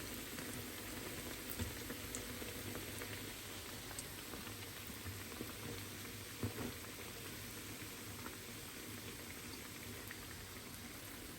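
Llokuma dough frying in deep oil, a soft, continuous bubbling fizz with a few faint clicks, quiet and steady throughout with no voices.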